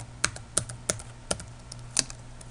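Keys on a computer keyboard click as someone types a passphrase, giving about seven crisp, separate taps spaced unevenly and heard up close over a faint steady hum.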